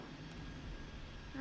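A-10 Warthog jet engine in a flight game, a steady low droning roar with a faint rising whine near the end, and a voice speaking over it.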